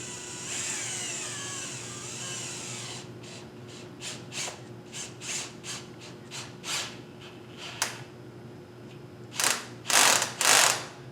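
Torque ratchet tightening a clamp during woodturning on a lathe, giving a string of short clicking strokes spread over several seconds over a steady hum, with the last few strokes louder and longer.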